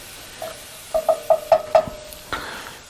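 Shrimp browning in a hot pan for shrimp scampi, a soft frying sizzle underneath with five or six quick stirring scrapes and clinks in a row, then one last scrape after a pause, close and fairly quiet.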